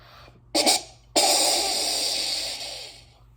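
A deer snort wheeze call imitated by a person, a short sharp burst of air followed by a longer, drawn-out breathy hiss that fades slowly, close and alone.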